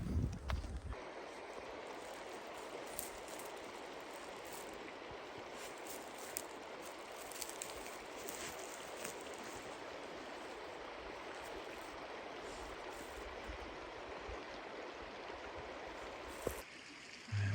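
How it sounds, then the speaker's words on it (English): A river runs steadily in the outdoors, a constant broadband wash of moving water with some wind noise on the microphone, holding even throughout with no talk. "We're down here on the river."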